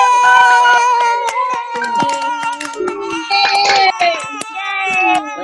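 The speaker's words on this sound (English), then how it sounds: "I want everybody to give a nice big cheer and a round of applause to all our teachers and all our helpers" Children on a Zoom call cheer and clap together, a chorus of high excited voices and shouts mixed with scattered hand claps, loud and close through a compressed connection.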